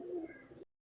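A pigeon in a loft gives one brief, soft coo, faint and close, ending abruptly into silence.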